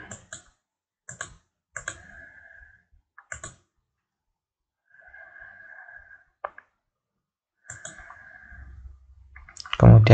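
Computer mouse clicks during a website setup session, sharp isolated clicks in short irregular bursts and pairs, fairly close, with faint tonal hum between, and a louder thump at the end.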